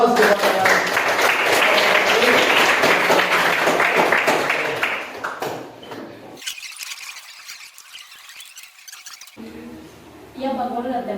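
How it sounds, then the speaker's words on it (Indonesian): Classroom applause for a student group's presentation on neurons, a loud burst of clapping with squeals and cheers that fades into quieter scattered claps before clapping swells again briefly. "Ya, kami berikan aplaus kepada"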